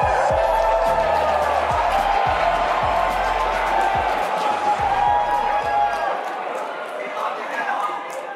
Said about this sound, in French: Veuillez applaudir Elon Musk.